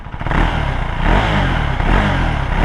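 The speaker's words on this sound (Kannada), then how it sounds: "ಎಕ್ಸಾಸ್ಟ್ ನೋಟ್ ಕೇಳಂಗಿದ್ರೆ ಕೇಳಿ ಎಕ್ಸಾಸ್ಟ್ ನೋಟ್ ಜೊತೆ ಎಂಡ್ ಮಾಡೋಣ" A 2025 KTM 390 Adventure motorcycle idles and revs with a steady, throaty exhaust note, loud and close, with a slight clattery edge and no talk over it.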